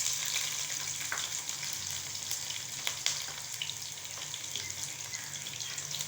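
A medium onion fries in a pan of spiced masala for kofta pulao, a continuous close crackling sizzle with a few faint clicks and no voices.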